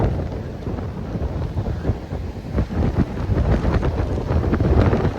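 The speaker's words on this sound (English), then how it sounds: "It is a little bit windy." Strong storm wind gusts buffet the microphone on the Bournemouth coast, a loud continuous low roar that rises and falls and swells toward the end.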